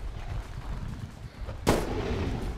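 A single loud gunshot sounds in the video game Bigfoot, a sharp broadband crack that follows a low background rumble of game noise. No one talks.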